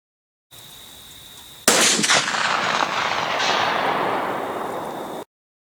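A .500 Magnum rifle fires at a steel target 350 yards away, producing one loud, close blast that rolls into a long echoing rumble across open ground and trails off over several seconds.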